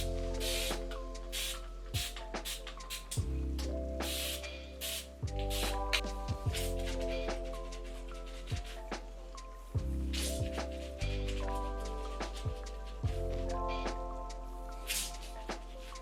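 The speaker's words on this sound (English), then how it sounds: "give it a big scrunch and probably spray a little more water in it" Water is spritzed onto hair from a spray bottle in repeated short, crisp bursts at a steady rhythm, close to the microphone, with soft scrunching handling sounds between sprays and a held musical drone underneath.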